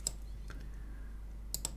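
Keys pressed on a worn computer keyboard with a failing Ctrl key, giving a sharp click at the start and a quick cluster of three clicks near the end, fairly close and quiet with no talking.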